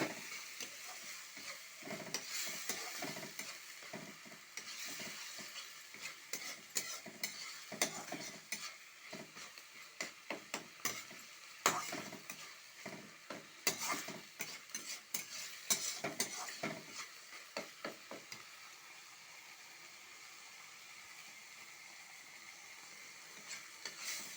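A paste of ground spinach gets stirred in a pan with a steady, soft scraping and sizzle, irregular stirring strokes running for most of the clip before easing off into a quieter simmer near the end.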